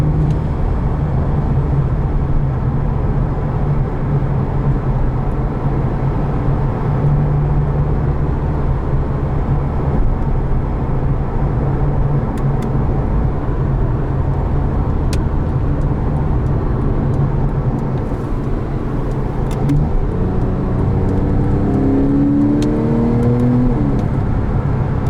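A 2010 Porsche Carrera 4S with a PDK gearbox drives with a loud, steady engine drone heard from inside the cabin, and the revs climb toward the end as it accelerates.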